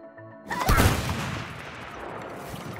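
A burst of gunfire in the co-op game It Takes Two begins abruptly after a short musical lead-in, then settles into a dense, sustained rattle that continues to the end with no speech.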